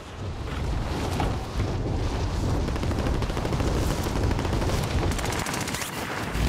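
Dense, continuous gunfire during a Warzone match: rapid overlapping automatic bursts and rumbling blasts form a steady roar of combat that holds for several seconds at moderate volume, with no clear voices over it.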